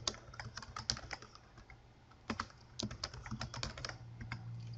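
Rapid bursts of clicking keystrokes on a computer keyboard as a password is typed for Oracle BPM Suite 12c database schemas, close and fairly quiet, with uneven clusters of taps and short pauses.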